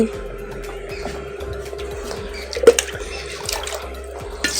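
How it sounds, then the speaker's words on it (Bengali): Water is poured into a cooking pot for rice, a steady splashing and trickling stream close by with a few metallic knocks from the pot. "হাড়ির মধ্যে জল দেয়নি জল দিতে হবে"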